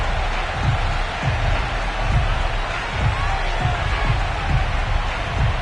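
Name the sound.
crowd cheering in Madden football video game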